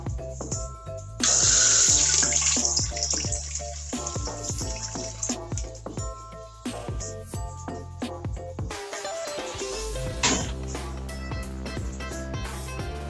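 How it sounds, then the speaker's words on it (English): Water flows into a freshly rebuilt toilet tank, a hissing, filling rush that runs on steadily, nearby, with clicks and small knocks of handling scattered throughout. "And we're going to turn the water back on."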